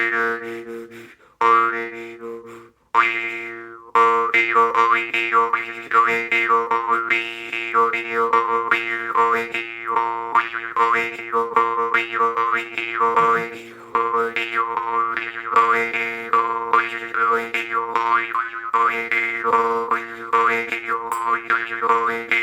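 A jaw harp twangs continuously with a buzzing, wavering tone, its pitch swelling and shifting rhythmically as breath pushes in and out.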